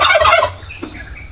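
Backyard laying hens calling in a rapid, warbling burst of clucks that breaks off after about half a second, followed by faint, scattered sounds close by.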